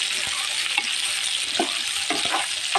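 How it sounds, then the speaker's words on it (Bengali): Boiled taro stolons (kochur chhora) fry in a pan after shrimp, with a steady close sizzle of hot oil and occasional scrapes and knocks of a spatula stirring. "এখন আমি কচুর ছড়াটা দিয়েও কিছুক্ষণ ভেজে নেব।"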